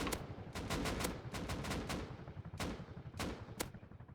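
Rapid gunfire in a helicopter video game, a dense run of sharp shots in uneven bursts over steady loud background rumble, continuing throughout.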